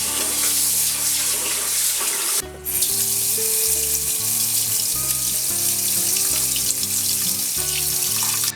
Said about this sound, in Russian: Промываем рис, он замачивался уже что-то вроде получаса, 40 минут, вода очень мутная.